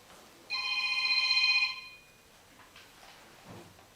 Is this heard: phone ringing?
yes